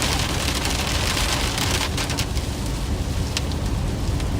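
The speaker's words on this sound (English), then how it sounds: "Might be out of the heaviest rains now." Heavy rain pours during a supercell thunderstorm in northeast Kansas, a loud, dense, steady hiss of drops drumming on surfaces, with a few sharper spatters throughout.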